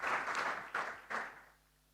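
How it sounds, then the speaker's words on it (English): Conference audience applause, a short burst of clapping in three quick swells that then cuts off, leaving a quiet room. "Can we give him another round of applause?"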